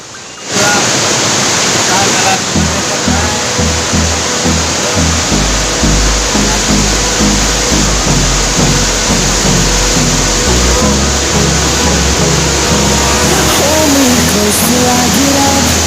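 Steady roaring rush of falling water at the Curug Bandung Wanareja waterfall in Indonesia, loud and continuous at close range, with a low rhythmic rumble underneath.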